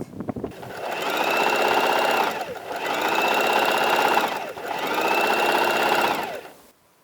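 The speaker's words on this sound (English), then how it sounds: "I'm going to sew the other side also and close it." Sewing machine stitching fabric for a kaftan, closing a side seam in three steady runs of rapid mechanical whirring with brief pauses between them, close and loud.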